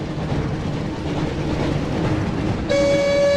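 The Hogwarts Express in the Harry Potter and the Chamber of Secrets video game rumbles along loudly and steadily, then a sustained horn blast sounds near the end.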